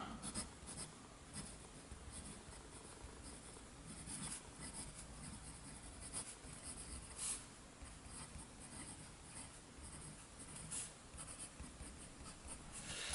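Steel-nib Cross ATX pen writing on 120 gram paper, a close, steady scratching of strokes with small taps and pauses between words, continuous and alone.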